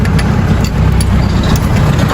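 A motorcycle engine idles steadily up close, a loud continuous low rumble with an irregular knocking noise in the motor, heard alone while its temperature sensor is being replaced.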